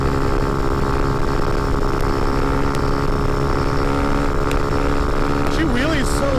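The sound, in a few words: motorcycle engine revving during a wheelie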